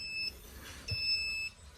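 Egg incubator beeping because its temperature has dropped too low: two thin electronic beeps, one short and one longer, in a quiet room.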